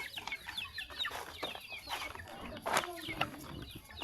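Penned chickens cluck softly and intermittently at close range, a scattered chorus of short calls over a faint background.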